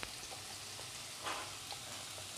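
Chopped onion and green chilli frying in a pan over lowered gas heat for egg devil, a continuous soft sizzle with faint stirring scrapes.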